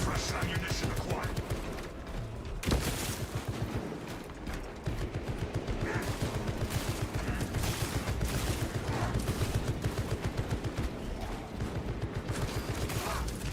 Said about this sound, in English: Alright, just let the turret do its work.